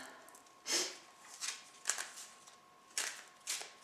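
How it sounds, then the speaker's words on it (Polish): Tarot cards being shuffled by hand, a quiet close series of crisp riffling bursts at an uneven rhythm, about five of them, with no talking. "ja jeszcze raz je sobie tutaj przetasuję"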